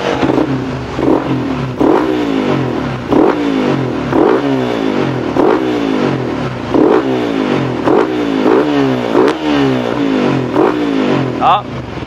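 A Suzuki GSX-R150 bored to 177cc with a stock head, valves and cam revs repeatedly, its engine note climbing and dropping in regular surges, loud and close throughout, with a brief higher sound near the end.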